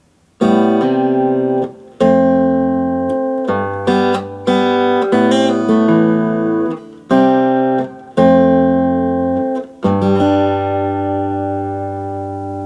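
A clean acoustic guitar plays the light, ringing introduction to Ben Harper's "Forever", open strings sustaining under a picked melody, chords changing every second or two, no voices.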